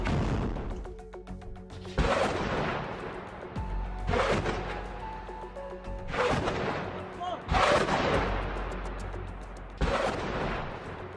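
Hezbollah anti-tank guided missile strikes on an Israeli army post land as a series of about six sharp, loud blasts spaced a couple of seconds apart, each decaying into rumble.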